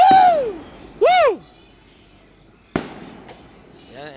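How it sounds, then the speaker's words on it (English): Fireworks whistle upward in two rising shrieks, followed by a sharp bang and another faint whistle, heard outdoors from a hill at some distance. "there are some gunshots fireworks going off"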